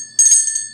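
A single bright bell chime rings out, short and clear, with a brief shimmering decay and no talk over it.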